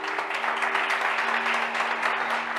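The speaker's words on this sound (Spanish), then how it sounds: "Denle un aplauso a Jesús" Congregation applauding for Jesus in a church service, a steady wash of clapping with a sustained tone running underneath, continuous and fairly even throughout.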